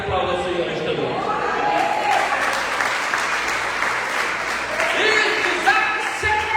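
A church congregation in Manaus, Brazil, applauds during a revival celebration service, sustained clapping mixed with cheering voices and background music, loud and continuous throughout.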